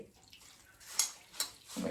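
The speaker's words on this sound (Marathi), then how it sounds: "आता याच्यामध्ये मी पाणी घालते." Water being poured into a bowl of puffed rice (murmura) while making poha, a thin splashing trickle with two brief louder bursts and a fuller gush toward the end.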